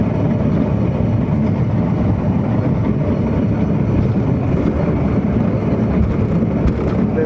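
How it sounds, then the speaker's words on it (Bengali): An amusement park ride train at Nicco Park in Kolkata runs along an elevated single-line track, making a steady, even rumble of motion with wind buffeting the microphone, continuous and fairly loud. "কত উঁচুতে দেখুন ট্রেনে যাচ্ছে। Single line train, centre train."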